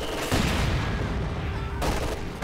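Mortar fire and explosions in Company of Heroes 2 form dense, loud, booming gunfire, with a heavy blast near the start, continuous rattling battle noise, and a second sharp burst toward the end.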